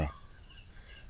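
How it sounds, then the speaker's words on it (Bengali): A bird gives a short, loud call right at the start, then fades into quiet pond ambience at a secluded Sundarbans eco resort, with faint higher tones lingering in the background. "পাখির ডাক"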